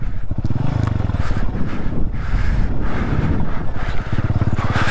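A Hero Splendor Plus 100cc motorcycle rides through the mountains of Spiti Valley, its small engine putting out a steady, pulsing drone up close, mixed with rushing wind noise against the microphone.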